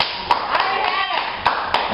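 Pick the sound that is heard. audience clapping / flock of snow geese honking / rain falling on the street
audience clapping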